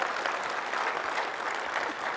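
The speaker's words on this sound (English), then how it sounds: "That's totally worthy of applause." Audience applause at a technical conference talk on cross-platform mobile development, a steady dense clapping that holds evenly for about two seconds with no voices over it.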